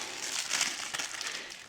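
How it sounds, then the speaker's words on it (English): Tissue paper crinkling as it is peeled off a Hornby model locomotive, a continuous close, soft rustle with small crackling peaks and no voices. "Take the tissue paper off"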